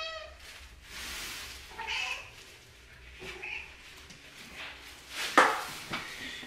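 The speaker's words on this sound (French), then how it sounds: "Je vous ai déjà montré mon chat?" A house cat meows indoors several times. The calls are spaced out over a few seconds and mixed with small handling noises, and one sharp, louder sound comes near the end.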